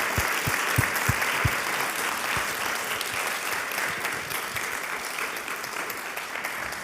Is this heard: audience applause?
yes